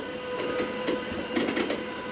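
The glass-roofed Glacier Express train rolls along its rails with a steady interior rumble, overlaid by soft rhythmic clicks from the wheels passing over rail joints, heard from inside the carriage without any talking.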